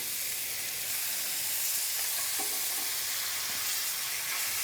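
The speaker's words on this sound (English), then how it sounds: "That's that sexy sear sound." Meat searing in a hot cast iron pan gives a steady, loud, close hiss and crackle that runs unbroken, with no voices.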